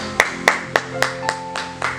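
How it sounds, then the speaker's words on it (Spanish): A handful of people clap at a church service, about seven distinct claps spaced roughly a quarter second apart, fairly close and fading slightly, with a faint sustained tone underneath. "Denle un fuerte aplauso."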